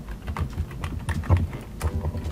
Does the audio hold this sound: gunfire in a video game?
no